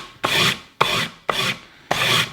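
Sandpaper held at a 45-degree angle rasps along the edge of a wooden cheese board in four steady up-and-down strokes, close and fairly loud, with no talking.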